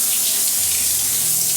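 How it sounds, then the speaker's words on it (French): Shower water runs steadily as it rinses through the scalp and lengths of hair, a continuous close spray hiss with no pauses or voices. "La pression de l'eau rince mon cuir chevelu, mes longueurs."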